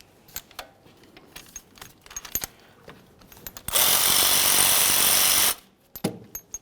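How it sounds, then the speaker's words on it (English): A 14mm socket on a ratchet loosens a brake caliper slider bolt on a 2003-2011 Mercury Grand Marquis, heard as scattered close metallic clicks and clinks, then a loud steady burst of ratcheting noise lasting about two seconds before more light tool clatter. "To remove each of our caliper slider bolts, use a 14mm socket."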